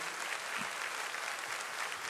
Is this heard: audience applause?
yes